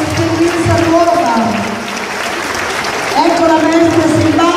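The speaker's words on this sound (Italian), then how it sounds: "vogliamo accogliere con un caloroso applauso" Warm applause from a school audience welcoming first-grade children at a primary school festival, with steady clapping throughout and a dip in the middle, while voices and crowd noise mix underneath.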